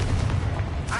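A Confringo blasting spell explodes in Hogwarts Legacy catacombs: a heavy, booming blast with a rough low rumble, followed by a second burst, loud and close.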